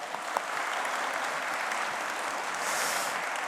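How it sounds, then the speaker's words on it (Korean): Congregation gives a welcoming round of applause at a New Year's Day prayer service, a continuous moderate wash of clapping from a crowd, fairly even throughout with no talk. "큰 환영의 박수 보내드리겠습니다"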